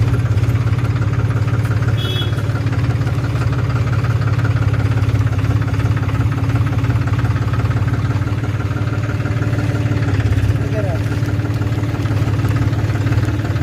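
A Powertrac Euro 45 Plus 4WD tractor's diesel engine idles steadily nearby, a continuous low throbbing rumble with a faint knock, running alone without talk throughout.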